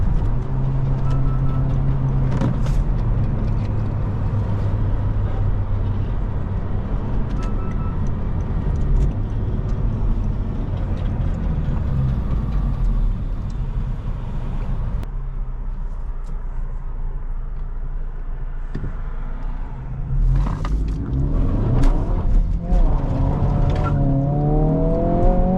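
A Honda Civic Si drives along with engine drone and whirring, rising and falling revs, and the whooshes and flutters of its turbo growing busier toward the end.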